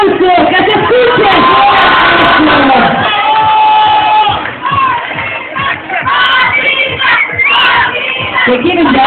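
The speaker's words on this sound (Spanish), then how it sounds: "Y para ellas, un fuerte aplauso. ¡Que se escuche!" An audience at a cosplay contest cheers and shouts for costumed performers, a loud, dense crowd roar of whoops and children's yells that swells and dips briefly mid-way before rising again, with little distinct clapping.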